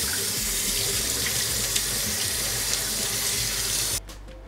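Tap water runs steadily under a sink over a hat being soaked, a close, even rushing stream that cuts off sharply near the end.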